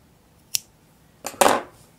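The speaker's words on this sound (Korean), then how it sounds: "이 상태에서 가위로 잘라내주시면 돼요" Scissors snip through fabric yarn during a crochet project: a single sharp cut, then a louder pair of crisp snips close by, with quiet between.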